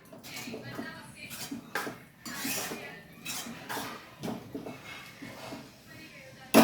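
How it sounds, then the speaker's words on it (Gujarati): Green pigeon peas being stirred in a pot for a Gujarati tuver dish, a steady run of scraping and clinking from the spoon against the metal with soft wet shuffling, moderately close, ending in a sharper knock. "આપણે એને હલાવી દઈશું સારી રીતે મિક્સ કરી દઈશું"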